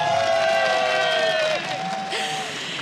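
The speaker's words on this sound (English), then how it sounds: "Give him a round of applause." A tournament crowd at a StarCraft 2 esports event cheers and applauds in a steady wash of noise, while a tonal sound glides and fades beneath and the crowd thins slightly toward the end.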